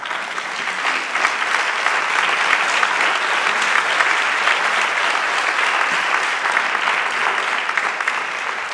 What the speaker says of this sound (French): Et moi, je vous applaudis, vous.